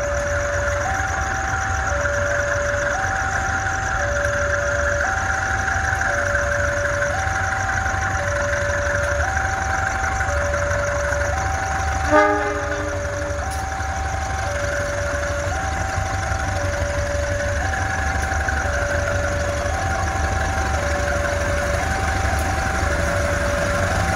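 A CC203 diesel locomotive hauling the Joglo Semarkerto train on the east side of Solo Balapan station gives a steady, low engine drone. A repeating two-tone electronic beep pulses over it throughout, with one brief clank near the middle.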